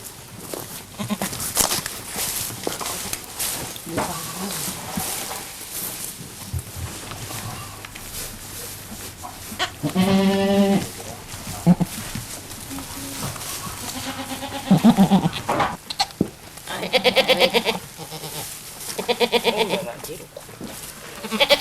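A goat bleating after giving birth on a farm, several loud wavering bleats spaced apart among close rustling and handling sounds, with people talking at times.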